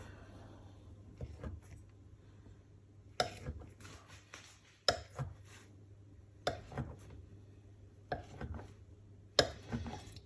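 A knife chops down through wholemeal mozzarella and white sesame twists on a board, making about six sharp, fairly quiet cuts spaced at a slow, even rhythm in a quiet room, with no talk.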